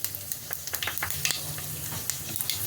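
Asafoetida tempering in hot oil alongside fennel seeds, whole dried chillies and a bay leaf, crackling and sizzling close up with steady frying and small spattering pops.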